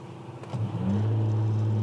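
Audi A5 3.0 TDI quattro diesel with remapped gearbox, traction control off in sport mode, revving up: a close, loud engine note climbing and then holding a strong steady drone, heard alone.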